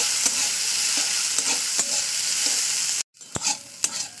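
Ganthia frying in oil in a pan while being stirred: a steady, close sizzle with repeated scraping stir strokes, then a brief cut to a quieter stretch with a few louder clatters and hisses.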